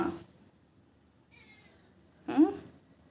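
A cat gives a faint meow, then a louder, clearer meow up close, with quiet room sound in between.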